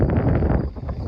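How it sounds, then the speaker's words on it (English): Strong wind buffeting a vehicle driving through Kansas, a steady broadband roar with gusty low rumble filling the whole clip, loud and continuous with no talk. "It's really windy again. All the wind noise is back."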